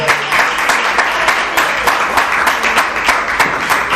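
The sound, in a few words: church congregation applause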